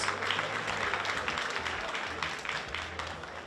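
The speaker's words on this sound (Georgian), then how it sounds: "აპლოდისმენტები ჩვენ სპონსორებს." An audience at a combat-sports fight tournament applauds its sponsors with a dense, steady wash of clapping that holds loud and even throughout.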